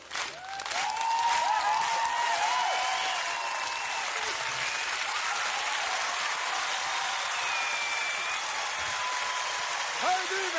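Sustained audience applause and cheering fills a large hall after a singer's impersonation, loud and steady from start to finish with a few whistles on top.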